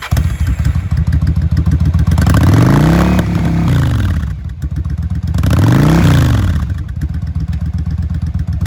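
A used 2003 Yamaha V-Star 1100 V-Twin cruiser motorcycle runs loud and close, its steady lumpy idle broken by two rising-and-falling throttle revs, with no talking.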